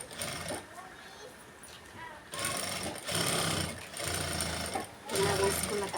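A sewing machine stitches a blouse lining in several short bursts separated by brief pauses, close and moderately loud, with a voice faintly present underneath.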